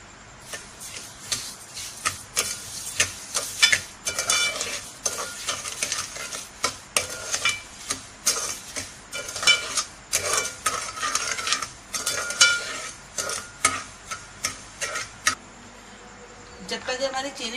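Sugar and water are stirred in a greased pan as the sugar melts for soan papdi, with rapid repeated spoon scrapes and clinks against the pan over a faint sizzle, going on steadily without talk.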